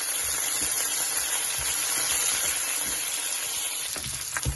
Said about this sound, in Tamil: செத்தல் மிளகாய், அதோட கூட எல்லாம் போட்டு ஃப்ரை பண்றேன் பாருங்க.